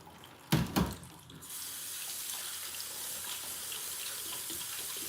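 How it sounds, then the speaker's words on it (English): Cold tap water runs over soba noodles being rinsed in a sink, a steady close rush of water that starts after a couple of brief clattering knocks. "I'm just gonna rinse in the soba with cold water"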